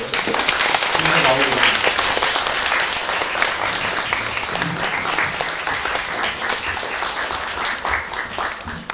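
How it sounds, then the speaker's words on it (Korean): A library audience applauds to welcome a film director and an actress at a movie talk event, dense sustained clapping from the crowd throughout, with some voices mixed in. "박수로 맞아주세요"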